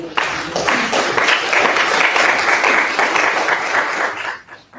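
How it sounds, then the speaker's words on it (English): A crowd at the 65th anniversary ceremony of the Little Rock Central High School integration applauds loudly and steadily for several seconds, the clapping thinning out and fading near the end. "that deserves an applause"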